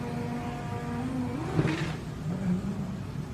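A drag racing car launches at a TX2K21 event, its engine revving up and rising in pitch as the tires spin and break loose, heard from a short distance.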